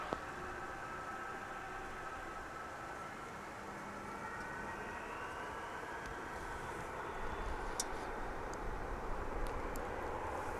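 A fixed-wing airliner takes off from a runway at DFW International Airport, heard as a steady, distant broadband roar of jet engines that builds slightly toward the end.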